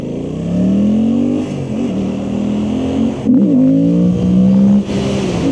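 A stock-exhaust Suzuki GSX-8R motorcycle with traction control off accelerates hard, its engine note climbing through the revs with brief dips at gear changes, loud and close throughout.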